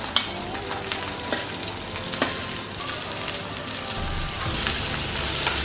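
Onions fry with green chili and curry leaves for chicken balls, giving a steady, busy sizzle throughout with occasional faint stirring clicks and no talking.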